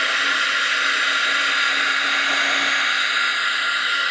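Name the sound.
drying marker ink on mail art with a dryer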